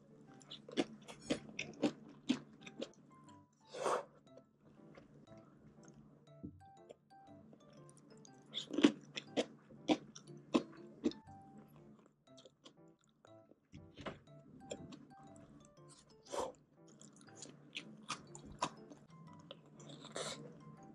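Someone eats rice with soft-boiled soy-marinated eggs, giving close, irregular bites and chewing with soft crunchy clicks and smacks spread across the stretch; no talking.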